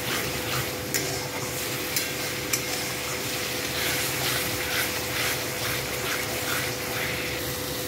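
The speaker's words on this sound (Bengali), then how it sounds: "দেখো কি সুন্দর ভাজা ভাজা হয়ে তেলটা ছাড়ছে" Spice masala frying in hot oil with a dense, constant sizzle and intermittent scraping stirs of a spoon in the pan, close up and unbroken, no talking.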